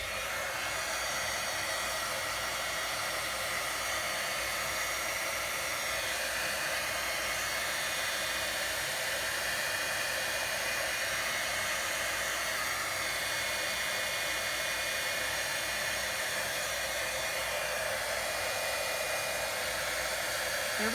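A hair dryer blows continuously over embossing powder on a handmade postcard, a steady, fairly loud hissing whoosh with a faint whine that holds unchanged from start to finish, no voices.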